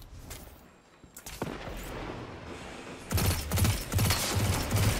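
Gunfire from the video game Destiny 2: bursts of rapid shots come in clusters, quieter at first, then a louder, denser volley from the halfway point to the end, no talking.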